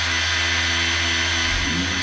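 A power polisher works on the fog lamp lens of an R55 Mini Clubman, a loud, steady, continuous motor whine with a high hiss that holds unbroken throughout.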